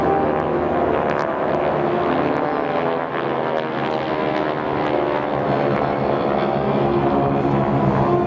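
Geico Skytypers propeller aircraft flying overhead at a military open house air show, a loud, sustained engine drone that stays steady and close throughout.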